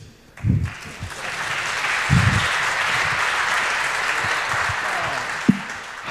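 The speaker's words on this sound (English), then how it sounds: "Please give a warm applause to our wonderful speakers." Audience applause for speakers taking the stage at a talk on neurodiversity, a steady broadband clapping that swells after a brief pause and holds for several seconds, with a few low voices and a sharp knock near the end.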